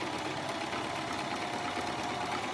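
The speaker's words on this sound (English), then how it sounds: "So let's start sewing that in place and I will show you the loops." A sewing machine stitching with a short stitch length while sewing a looped stitch pattern, a fast, even mechanical whir with faint rapid ticking, steady and close.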